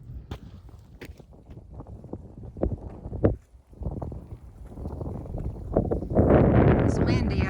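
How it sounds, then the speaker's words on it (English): Gusty wind buffeting the microphone on the Bald Knob summit along the Pinnacle Mountain trail, low rumbling throughout with footsteps and rustling, swelling into a stronger roar near the end. "It's windy up here,"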